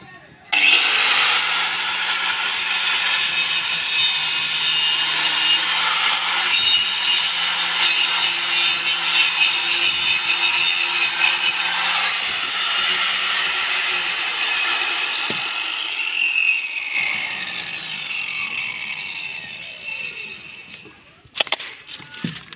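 A power cutting machine slices through a pipe, loud and close with a steady high whine and grinding buzz that holds for about fifteen seconds, then winds down as the cut finishes, ending in a few short clicks and knocks.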